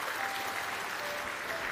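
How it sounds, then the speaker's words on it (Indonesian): A church congregation applauds during a sermon, a steady wash of many hands clapping together for a short moment. "Kita beri tepuk tangan untuk kebenaran ini."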